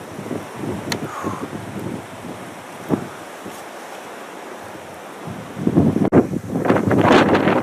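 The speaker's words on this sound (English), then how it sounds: "Freezing cold wind now." Cold wind gusts across a lakeside walking track by Lake Penna, a steady rushing roar that swells louder toward the end, with buffeting on the microphone and no talking.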